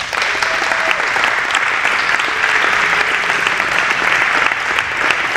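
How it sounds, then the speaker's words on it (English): A crowd at a high school athletic awards event gives sustained, steady applause for the cross country coaches, dense clapping filling the room at close range without pause. "let's give them a round of applause"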